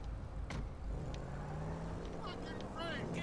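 A car engine in Grand Theft Auto 5 on Xbox One pulls away, its tone rising steadily as it accelerates. The engine sits fairly quiet under someone talking over it.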